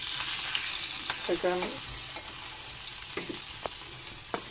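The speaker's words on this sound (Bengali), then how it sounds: "ডিম সিদ্ধ করার পরে ভাজা হয়ে গেছে" Boiled eggs fry in a pan with a steady, close sizzle and hiss throughout, broken by faint stirring scrapes and one short spoken word.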